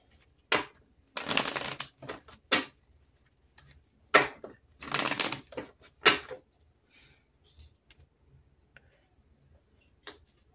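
Tarot cards shuffled by hand in two riffling bursts, with sharp taps and clacks of the deck being dropped and squared between them, close and clear against near silence.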